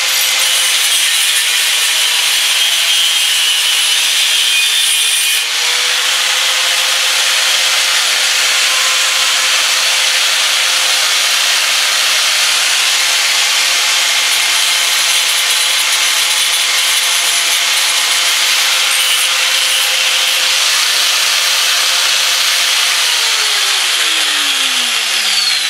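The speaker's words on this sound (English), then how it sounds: "is to whip out the old grinder and cut the shape out" A steady, loud, high-pitched grinding whine of an angle grinder cutting a metal flange, sustained without pause, its pitch dipping slightly near the end.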